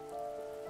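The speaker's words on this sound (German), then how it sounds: "Es regnet." Rain falls in the video game The First Tree, a soft, continuous patter of drops under a steady sustained tone, quiet and even for the whole brief moment.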